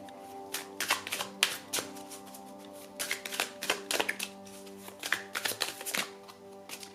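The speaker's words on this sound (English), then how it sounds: "I'm not feeling this shuffle." A deck of tarot cards is shuffled by hand at close range, giving repeated quick riffling and tapping bursts in an uneven rhythm over a steady low hum, with no talking.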